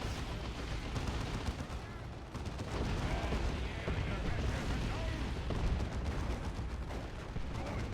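Artillery barrage in a video game: continuous dense rumble of many booming impacts and blasts, loud and unbroken throughout.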